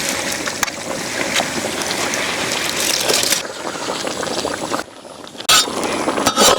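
Parboiled rice tipped into a large pot of boiling chicken biryani, about 5 kg, in a village kitchen, with a close rushing, bubbling and crunching pour that breaks off near the end before a brief final burst.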